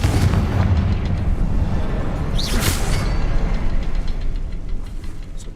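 A Confringo spell goes off in the Hogwarts Legacy game as a loud, rumbling fiery blast with a brief whooshing burst, set over continuous heavy game noise that stays dense for several seconds.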